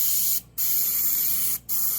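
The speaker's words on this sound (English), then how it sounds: "So I'm going to just spray it in there." Paint sprayed onto a black wolf painting to repair a damaged background area, a steady close hiss in two long bursts separated by brief pauses.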